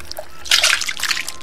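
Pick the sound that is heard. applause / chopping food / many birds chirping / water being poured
water being poured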